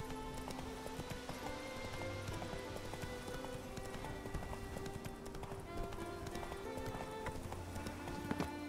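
Roach the horse galloping in The Witcher 3, a steady rapid clip-clop of hooves running continuously at moderate level over soft game ambience.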